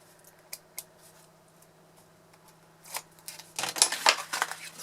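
Backing film peeled off double-sided tape while assembling a paper champagne box: a couple of faint ticks, then a louder crinkly tearing and crackling burst near the end.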